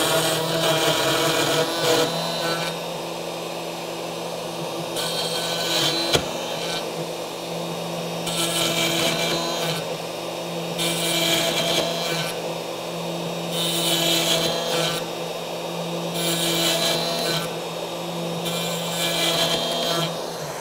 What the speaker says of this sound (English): we can make one pass with the router against the fence